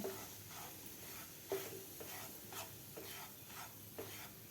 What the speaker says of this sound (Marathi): मिडियम गॅसवरच आपल्याला व्यवस्थित रवा भाजून घ्यायचा आहे